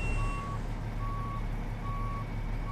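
Steady reversing beeps from a truck in American Truck Simulator, hauling a load of cement, repeat at an even pulse over a constant idling engine rumble.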